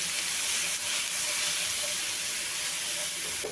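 Green chillies roast in a hot pan with salt, giving off a loud, steady sizzle that hisses evenly throughout, with a few faint pops and scrapes of stirring.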